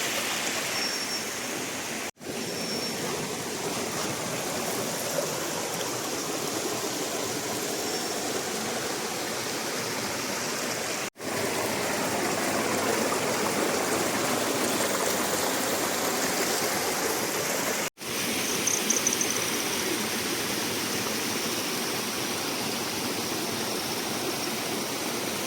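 Mountain stream and waterfall on Kumara Parvatha rushing in a steady, loud, broadband roar that fills the whole stretch, with a few brief dropouts and no voices.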